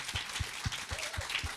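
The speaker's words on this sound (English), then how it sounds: "Oh, big round of applause for Melissa." Scattered applause from a small audience at a music academy event, with a handful of distinct, fairly quiet claps spaced about a quarter second apart over a soft background wash.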